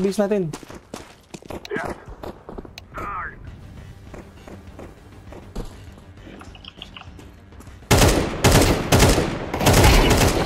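Counter-Strike 2 gunfire in a casual match, a series of sharp shots spread across the clip with footsteps and a dense flurry of rapid shots near the end, mixed with players talking.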